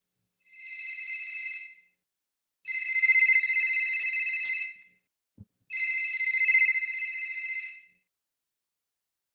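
Telephone ringback or ring tone repeating in three long, evenly spaced bursts, loud and clear with no talk over it, while a call is being placed.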